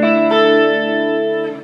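Electric guitar chord sustained through a chorus effect with a short echo of about 121 milliseconds, ringing alone with a shimmering, slightly distorted tone and a fresh strum partway through.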